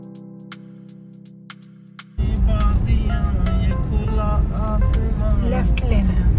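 A car drives slowly along a road near Katra. A quiet tonal hum gives way to a sudden loud, steady road and engine rumble, with voices talking over it.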